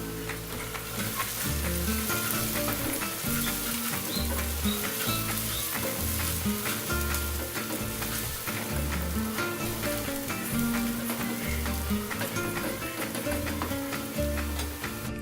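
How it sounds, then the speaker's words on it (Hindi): Sliced onions frying in clarified butter in a handi sizzle loudly and steadily throughout, with rhythmic stirring and scraping pulses repeating close up, no voices. "अनियंस को गोल्डन ब्राउन होने तक फ्राई कर लें"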